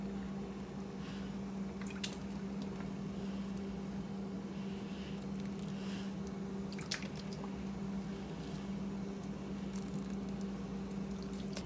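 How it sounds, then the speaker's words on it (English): Cooked tomatoes are scooped out of hot water into a sink, giving soft, quiet squishing and wet slopping sounds with a few small splashes over a steady low hum. "I'm just gonna scoop the tomatoes out of the hot water and into my sink."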